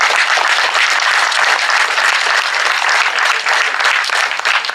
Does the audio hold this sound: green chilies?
no